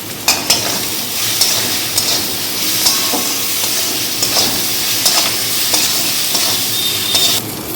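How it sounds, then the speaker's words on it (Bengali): Ginger and garlic paste is stir-fried in mutton fat in a pan, a continuous loud sizzle with repeated scraping strokes of a spatula close by. "মশলাটাকে খুব ভালোভাবে কষিয়ে নিতে হবে।"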